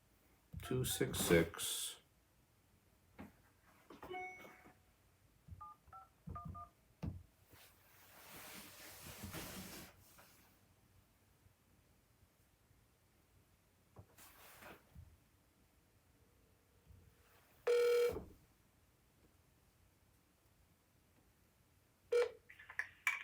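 A telephone call being placed, with clustered dialing tones and clicks followed by sparse ringing tones over quiet background, while a person speaks intermittently.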